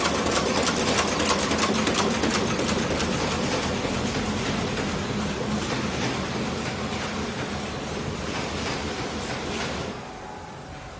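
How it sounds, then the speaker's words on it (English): A printing machine runs steadily in a charger adapter factory, giving a loud continuous rapid mechanical clatter that carries on without pause and eases slightly near the end. "This is the printing machine."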